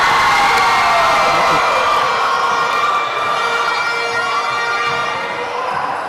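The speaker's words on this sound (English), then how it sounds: "That got the fans up on their feet, cheering for the Mona Campus" Basketball fans at a men's university regional games match between Mona and Open Campus cheer loudly and steadily, a dense roar of crowd voices with whoops and shouts filling the gym throughout.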